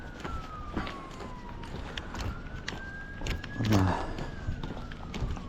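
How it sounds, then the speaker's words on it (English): EMS emergency vehicle sirens out on a street, a wailing tone that rises and falls at a moderate distance, with nearby footsteps, clatter and voices talking over it. "The sirens on the street for that EMS call we just heard."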